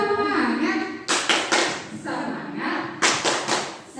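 A group claps in short, energetic rhythmic bursts of a chanted clapping routine at a school workshop, crisp strikes in quick patterns alternating with voices calling out between them.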